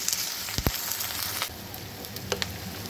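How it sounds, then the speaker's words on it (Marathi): Ginger garlic paste frying in oil with whole spices for paneer korma, a steady close sizzle with a couple of sharp spatters and brief scraping, no voices. "आलं लसूणची पेस्ट टाकायची, ती व्यवस्थित फ्राय करायची।"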